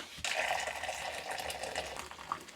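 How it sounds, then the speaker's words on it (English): Simmered ivy liquid is strained into a jug, pouring in a steady trickling stream that starts abruptly and runs for a couple of seconds, close and fairly quiet, with no talk. "I'm just going to strain it into this jug"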